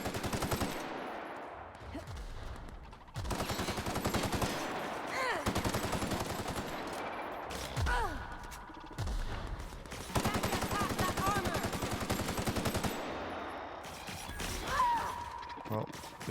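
Rapid automatic gunfire and clattering weapon mechanisms in The Outer Worlds sci-fi shooter, continuous bursts with brief pauses, mixed with game effects and a voice in places.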